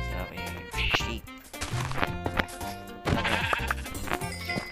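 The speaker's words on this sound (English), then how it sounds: "Now we have sheep." Sheep in Minecraft bleat repeatedly in short wavering calls, close and loud, mixed with hitting thwacks and game sounds.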